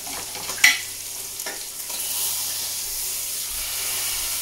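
A pork roast sears in a hot pan with a continuous, bright sizzle. A sharp clatter early on comes as the meat is moved, and the frying hiss then swells and holds steady at close range.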